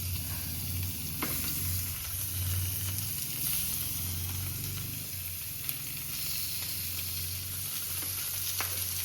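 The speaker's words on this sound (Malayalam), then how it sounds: "നമ്മൾ മീൻ പൊരിക്കാൻ പോവുകയാണ്." Fish frying in hot oil in a home kitchen, a steady close sizzle and crackle running throughout with occasional small pops, alone with no talk over it.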